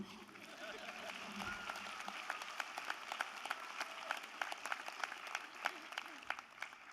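A graduation audience at a University of Wales Trinity St David ceremony in Swansea claps steadily for about seven seconds, crisp individual hand claps standing out against a dense, moderately distant wash of applause.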